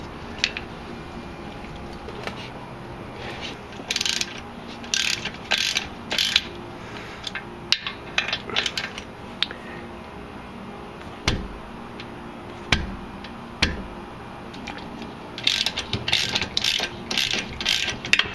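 Ratchet wrench with a 15mm socket breaking loose sway bar bolts on a 1999-2004 Jeep Grand Cherokee during an Addco sway bar install, heard as several bursts of quick close ratcheting clicks separated by pauses.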